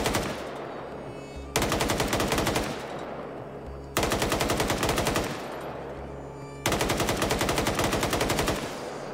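A machine gun fires in a video game in three long, rapid, loud bursts with short gaps between them, each burst starting sharply and then tailing off in echo.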